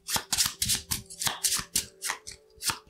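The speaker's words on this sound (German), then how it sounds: "Wir müssen den Patrouillenkartenstapel wieder mischen." A deck of patrol cards from the board game Maquis shuffled by hand, close and loud, about a dozen rhythmic papery swishes in steady succession.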